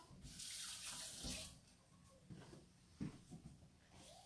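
A wooden spoon rinsed under a running kitchen tap: a steady rush of water for over a second, then quieter splashes and knocks as the spoon is handled, close and soft.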